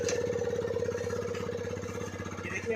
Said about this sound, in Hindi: कोल्ड स्टार्ट में इसका साउंड कुछ ऐसा आता है